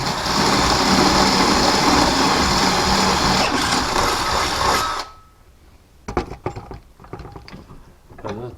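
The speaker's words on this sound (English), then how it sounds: "Drill the holes out through these washers." A power drill bores holes through metal washers with a loud, continuous grinding whine lasting about five seconds, then stops, followed by scattered clinks and handling noises.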